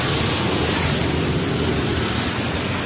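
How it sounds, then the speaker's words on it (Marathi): Heavy monsoon rain pours down on an auto-rickshaw with curtains drawn, a steady, dense hiss with no breaks, loud and close throughout. "पाऊस बघा"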